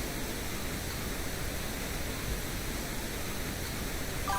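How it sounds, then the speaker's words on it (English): Steady pink noise reference signal used as a level guide while mixing and mastering a track: a continuous, even broadband hiss with no gaps, fairly quiet and alone. "we're just going to dial that down in relation with the pink noise"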